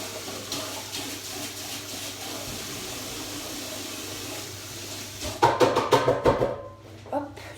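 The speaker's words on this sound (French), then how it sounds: "je vais juste rincer mon lavabo" Tap water runs into a bathroom sink as it is rinsed, a soft steady hiss that swells into louder splashing near the end before cutting off.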